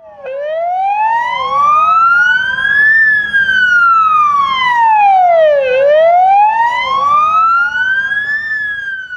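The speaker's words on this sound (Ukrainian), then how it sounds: "працівники швидкої востаннє вімкнули для нього сирени автівок." A loud, close ambulance siren wails steadily at a funeral, rising and falling in long sweeping cycles with no other sounds.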